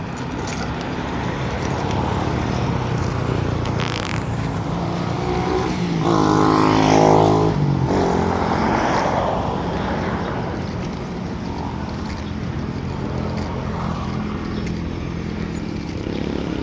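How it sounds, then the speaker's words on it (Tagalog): Heavy road traffic near a barangay hall, a steady dense roar of many vehicles passing close by, swelling around the middle as a louder engine goes past, continuous and without talk. "Kayo magiging lang lakad dahil dami sasakyan. Ang dami sasakyan."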